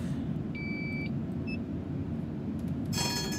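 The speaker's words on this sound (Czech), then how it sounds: "Už nám pípá, že máme odjez" An Ostrava T3 tram sounds its electronic departure beeps in a tram simulator game: a sustained high tone, then a few short bleeps over the steady hum of the tram interior, with a brighter burst of sound near the end.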